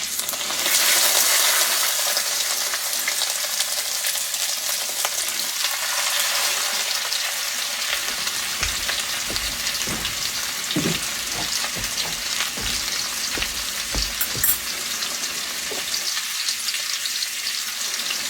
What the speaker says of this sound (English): we're going to sear our pork roast here on all 4 sides